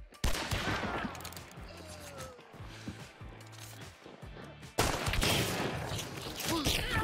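Gunfire in the shooter game Hunt: Showdown: a sharp shot opens the clip, followed by rumbling ambience with rhythmic low thuds like footsteps, then a loud burst of gunfire and echoing noise near the end.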